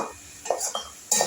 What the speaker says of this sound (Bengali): এবার আমি একটু ঢাকা দিয়ে দিচ্ছি।